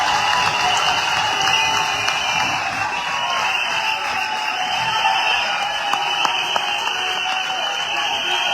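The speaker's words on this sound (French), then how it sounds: "S'il vous plaît, sous vos applaudissements" Steady audience applause welcoming a presidential candidate to a youth gathering, a continuous dense wash of clapping from a large crowd, even in level throughout with no speech over it.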